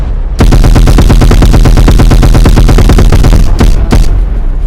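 Rapid automatic gunfire in the Roblox game Base Battles: a loud, dense burst of evenly spaced shots running for several seconds, then a couple of separate heavier shots near the end, with no talking.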